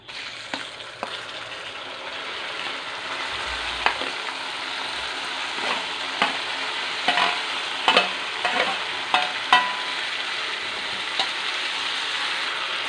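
Cooked plantain stir-fried in a pan with a spice mix for Kerala-style kaya ulathiyathu, a steady close sizzle broken by repeated scraping and stirring clacks from the spoon, with no voices.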